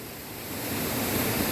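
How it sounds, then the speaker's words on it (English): Waterfall inside a very dark cave, a loud, dense broadband rush of falling water that swells slightly over a second and a half, steady and close with no voices. "Yeah, this is a waterfall."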